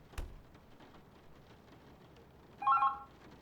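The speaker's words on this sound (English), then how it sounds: "Oh, the phone? Ugh. That's all I need right now." A phone in the video game The Berlin Apartment gives a short electronic ring after a quiet stretch of faint rain and a single soft thud.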